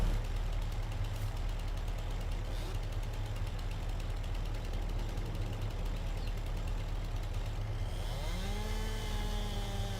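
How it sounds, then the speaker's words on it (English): A steel chainsaw in the video game Farming Simulator 22 cuts trees, a steady buzzing engine drone held throughout with a high whining tone, ending in rising, sweeping pitch glides. "So got the trusty old steel chainsaw here."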